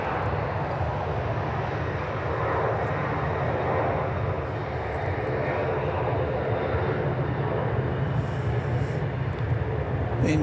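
Airbus A380 jet airliner at DFW airport, a sustained low rumbling jet engine roar that holds steady and fairly loud throughout, with a person talking intermittently over it.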